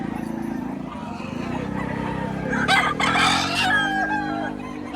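A rooster held for sale at a poultry market in Padre Garcia, Batangas crows once midway, a drawn-out harmonic call over steady crowd murmur and nearby talk.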